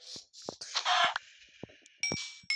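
Several short clucks from a chicken in the video game Minecraft, broken by brief clicks and thumps, with a high electronic tone near the end.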